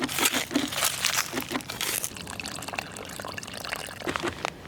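Soapy wash water from a camping laundry bag poured out into a hole in the ground outdoors, heard as crinkly splashing and gushing with some rustling, loudest at the start and then steadier.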